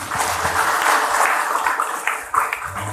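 Crowd applause at an Indonesian gathering honoring a senior party figure and election campaign chair: dense, continuous clapping across the whole stretch, fairly loud, with a few sharper claps standing out near the end.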